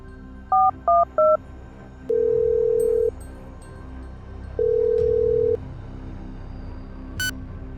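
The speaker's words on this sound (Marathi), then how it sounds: "म्हणून त्याने मन्याला फोन लावला" Three short mobile phone keypad beeps followed by two sustained dialing tones with a gap between them, crisp and nearby, then a brief high chirp near the end.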